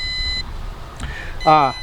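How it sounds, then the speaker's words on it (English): A toy drone (MJX Bugs B7) beeps electronically in short bursts, a steady high tone that cuts off, then a louder, wavering multi-tone beep near the end, amid low background noise. "Let me see if I can stop this beeping here."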